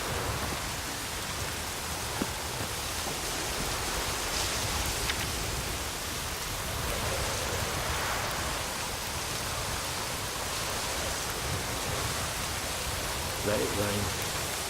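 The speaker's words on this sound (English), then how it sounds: "Let it rain." Steady hissing rain from The Witcher 3 fills the scene as a continuous broadband wash, fairly loud and unbroken throughout, with a faint voice briefly audible near the end.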